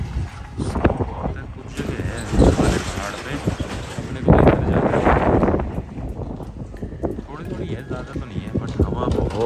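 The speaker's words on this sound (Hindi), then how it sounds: "बहुत ही ज़्यादा हवा चल रही है" Strong gusty wind on a snowy mountain drive near Patnitop buffets the microphone with loud roaring rumbles, while people talk nearby throughout.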